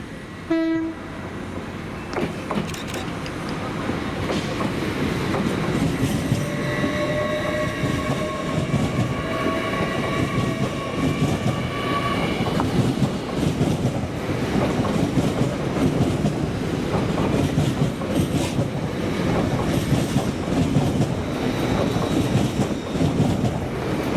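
An LNER electric passenger train, units 801 102 and 801 104, rumbles steadily past at close range through Doncaster station for a long stretch, with a sustained horn-like tone partway through and rolling wheel noise throughout.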